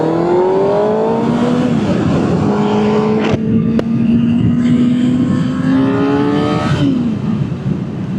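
A 2024 Kawasaki ZX-6R sport motorcycle with an aftermarket exhaust revs high with an aggressive exhaust note, climbing and dropping in pitch, loud and close, with brief shifts between gears.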